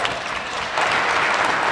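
A chamber of the Saskatchewan Legislative Assembly fills with steady clapping from many members, a dense, even patter that runs throughout without a break.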